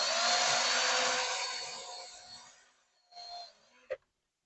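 A power drill with a regular drill bit runs steadily and loudly up close, boring into material while building a maintenance platform, then fades, briefly restarts and stops with a sharp click.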